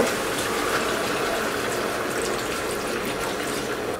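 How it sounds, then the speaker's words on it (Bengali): Water, about two cups, pours steadily into a cooking pot of fish in a continuous gushing stream, close and fairly loud, with no talking. "আমি 2 কাপ মতো পানি দিয়ে দিলাম।"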